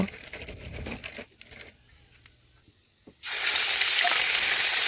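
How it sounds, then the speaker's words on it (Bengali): A ground ginger-cumin paste with chili powder and turmeric drops into hot oil, and a loud, steady sizzle bursts in suddenly after a few quieter seconds of kitchen handling. "এখন আমি এটা তেলের মধ্যে ছেড়ে দেব।"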